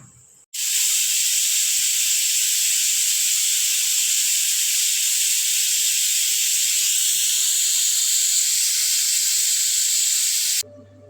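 A pressure cooker cooking pigeon peas blows its whistle in one long, loud, continuous hissing shriek that starts abruptly and cuts off after about ten seconds.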